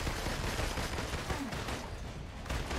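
Continuous gunfire from the player's guns in Marvel's Avengers, a dense, steady barrage of shots filling the whole stretch at moderate loudness.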